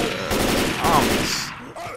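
Dense, overlapping gunfire from co-op shooting in the zombie video game Left 4 Dead 2, a loud sustained fusillade of rapid shots with game sounds layered throughout.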